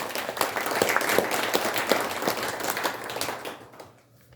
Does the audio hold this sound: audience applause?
yes